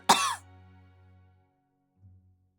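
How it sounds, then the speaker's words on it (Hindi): A single sharp cough rings out up close, followed by near silence and a faint low murmur. "ये कैसी खांसी?"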